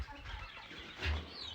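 Young chicks and hens clucking softly while being fed crushed grain feed, a faint close cluck rising briefly midway over low background noise.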